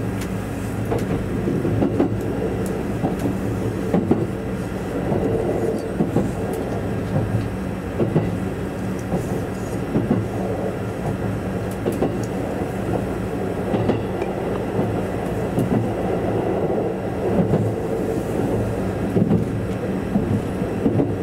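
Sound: limited express train ride

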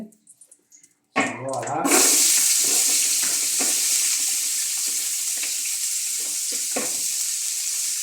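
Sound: onions frying in oil in a pan

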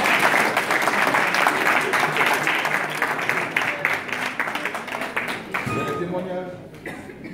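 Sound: audience applause acclaiming Jesus at prayer meeting

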